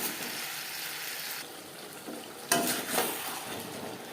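Flat beans cooking in a pan with a little water, a soft continuous sizzle and hiss, then a louder spatter and scrape of stirring near the end, close and alone.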